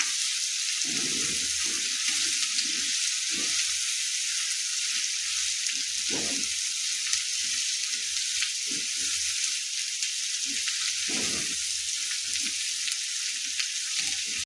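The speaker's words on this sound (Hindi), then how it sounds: "आ 2टा सुखलका ललका मिरचाई दऽ रहल छियै।" Two dried red chillies frying in a pan of oil with garlic and ginger, a steady bright sizzle running throughout with soft low stirring bumps and scrapes, close and continuous with no talk.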